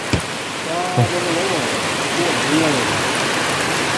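Rain keeps falling during a journey as a steady, fairly loud wash of noise, and a voice talks briefly over it.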